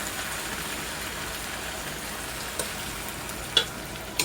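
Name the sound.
small-cut onions frying in a pan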